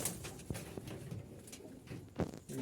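Jalali pigeons coo softly inside a loft, faint low murmurs with a few scattered rustles and knocks, no talking.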